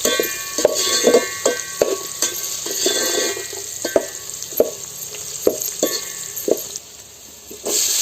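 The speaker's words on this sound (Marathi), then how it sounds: "आता हे सगळं मिश्रण व्यवस्थित त्याला परतून घेतो" A spice tempering with asafoetida sautés in a pan over a wood-fired stove, producing a steady sizzle broken by regular sharp clinks and scrapes of a spoon stirring against the pan, close and fairly loud.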